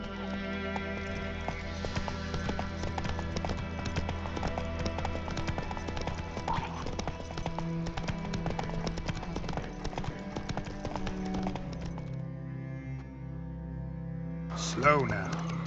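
The horse Roach gallops in The Witcher 3, its hooves clip-clopping in a rapid, steady rhythm that runs through most of the stretch under game music, then slows near the end.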